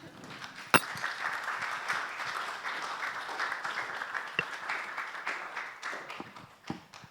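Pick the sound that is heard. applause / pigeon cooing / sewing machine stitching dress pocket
applause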